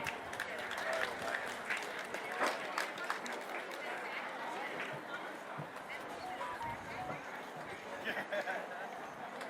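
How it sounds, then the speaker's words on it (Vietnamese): A large audience at the opening ceremony of a Vietnamese community Lunar New Year fair in Victoria breaks into a big round of applause, steady crowd clapping sustained throughout with some voices mixed in. "Một tràng pháo tay thật lớn."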